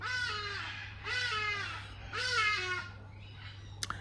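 A crow caws three times in a row, fairly close and clear, each call a harsh drawn-out rasp, followed by a fainter call and a brief click at the end.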